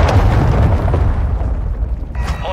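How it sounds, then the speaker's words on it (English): Cruise missile explosion in Call of Duty Modern Warfare 2, a loud, deep booming blast that rumbles and slowly fades, with a faint electronic tone near the end. "Hostiles launched a cruise missile."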